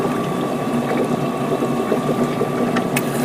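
A small siphon pump moves water through a model diorama, giving a steady, close gurgling and bubbling wash with a faint motor-like hum and occasional light splashes throughout.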